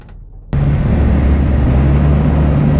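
A Tiffin motor home pulls into a service bay, its steady low engine rumble and road noise starting abruptly after a brief quiet moment and holding loud and close throughout.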